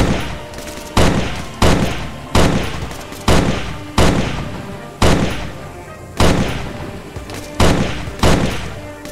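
Rapid bursts of automatic rifle fire crack out in the military shooter Arma 3, roughly ten loud sharp reports at a steady, slightly uneven rhythm, each trailing off into echo, with no voices between them.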